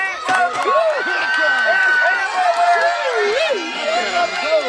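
Loud, excited crowd at a pig race cheering and whooping continuously, many voices overlapping in rising and falling shouts close by.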